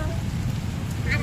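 Rain falls steadily during a thunderstorm, making a brief, even hiss of drops on surfaces at a moderate level, with no distinct thunder.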